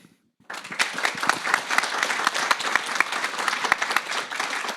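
Audience applause after a panel discussion at a live event, breaking out suddenly after a brief silence and continuing as steady, dense clapping from a large crowd throughout.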